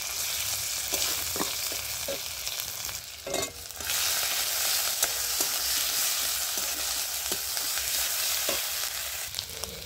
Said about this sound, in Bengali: এর মধ্যে আমি বেটে রাখা আদা রসুন পেঁয়াজের পেস্টটা দিয়ে দিচ্ছি।